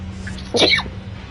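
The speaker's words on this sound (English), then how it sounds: "I feel like I gotta sneeze at some point." A single short sneeze bursts out over a steady low background hum, sharp and close, lasting well under a second.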